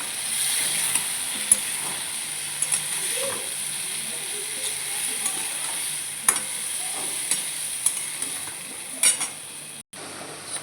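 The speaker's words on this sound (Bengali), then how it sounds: "এটাকে ভেজে নেবো আগে।" Food sizzles in a frying pan after salt and turmeric are added, a steady close crackle and hiss with occasional scrapes and clinks of a spoon stirring against the pan.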